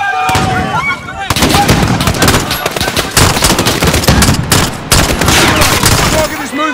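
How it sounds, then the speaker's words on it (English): Gunfire in a Call of Duty street battle, with dense bursts of rapid automatic shots and loud cracks coming in waves across several seconds, close and harsh. "The gunshots, of course."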